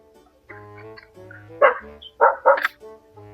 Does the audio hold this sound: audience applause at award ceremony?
no